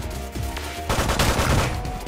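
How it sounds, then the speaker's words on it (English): Rapid machine gun fire in the video game Megabyte Punch, a dense, loud burst of shots that intensifies midway and continues to the end. "he's wise to my machine gun"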